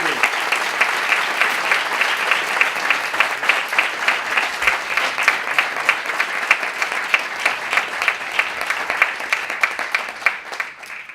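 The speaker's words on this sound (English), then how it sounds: "let's applaud in thanks for their bravery." A dinner audience applauds in thanks: sustained, loud, dense clapping with a steady rhythmic pulse that runs unbroken for about eleven seconds and eases slightly at the very end.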